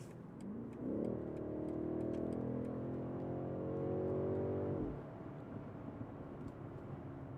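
A BMW X6 with a 4.4-liter twin-turbo V8 in sport mode accelerates hard, its engine note rising smoothly for several seconds before cutting off abruptly; moderately loud, no talking.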